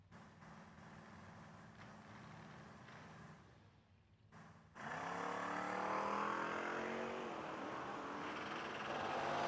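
Drag racing cars, including a Mustang, launch at a footbrake drag racing event: a quieter stretch of idling gives way to a sudden loud, close engine roar that rises and keeps revving hard to the end.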